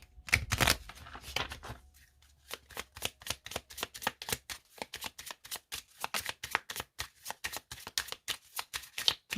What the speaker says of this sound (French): on va faire une coupe et on va prendre 8 cartes